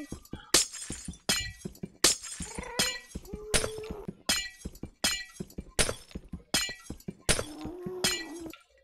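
A rapid series of loud glass-breaking crashes from the video game Sea of Flame 2, about a dozen sharp shattering hits in a steady rhythm, each trailing into clinking shards.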